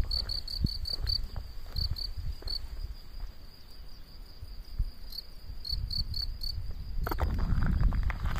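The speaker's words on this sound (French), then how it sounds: "On entend même quelques cigales, je pense." Cicadas shrill in pulsing bursts on a hot day in the Dordogne countryside, a steady high buzz with rhythmic chirps over faint outdoor rumble, growing busier toward the end.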